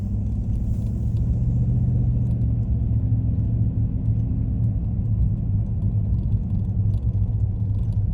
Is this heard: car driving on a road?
yes